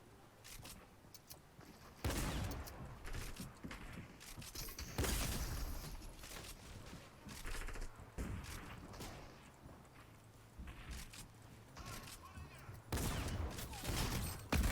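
Gunfire in a Fortnite match: bursts of shots cluster around two, five to six and thirteen seconds, with busy game-world sounds continuing loudly between them.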